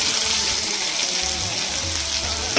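Onions and dried red chillies frying in hot tempering oil for a spinach dal, a bright continuous sizzle close up with faint stirring underneath and a brief clink at the end.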